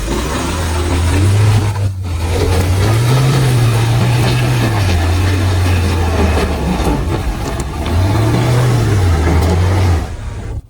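A 4WD vehicle strains up a muddy slope, its engine loud and close, revving up and dropping back in repeated surges with a steady rumble underneath and no talking.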